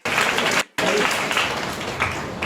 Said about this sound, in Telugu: ఒకసారి చప్పట్లు కొడితే ఏమైందంటారు?